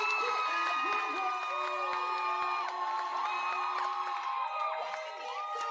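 Audience at a business and policy summit cheering and whooping with scattered applause, a dense, sustained crowd roar with raised voices and shouts throughout.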